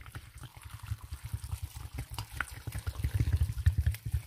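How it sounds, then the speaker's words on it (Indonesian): Hot water pours and splashes in irregular bursts onto vegetables for Indonesian urap in a pot, close by and gradually louder. "Kita akan siram dengan air panas saja."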